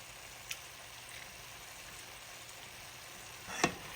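Red wine splashed into a hot pan of beef for beef stroganoff, giving a steady, quiet frying sizzle throughout, with a faint tick near the start and a brief louder hiss toward the end.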